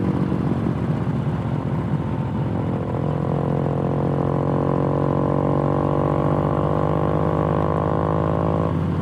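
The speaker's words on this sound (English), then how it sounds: "Thing's got a little loud exhaust on it though, that's for sure." A 2022 Harley-Davidson Low Rider S with a loud exhaust rides along on a Florida road, its engine droning steadily and close by, holding a deep, even rumble for the whole stretch.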